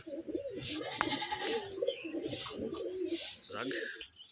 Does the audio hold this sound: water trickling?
no